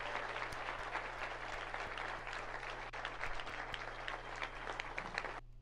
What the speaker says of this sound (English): watch the golf clap he gets